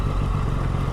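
Triumph Daytona 660 motorcycle riding a muddy road, its engine a steady, close mid-pitched drone with some clatter through the short stretch.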